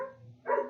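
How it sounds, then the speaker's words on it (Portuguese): A female dog barks indoors during an online lecture, one brief faint yap rising near the end of a short stretch of room sound. "a cachorra latindo, né?"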